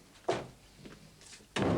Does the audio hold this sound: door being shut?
yes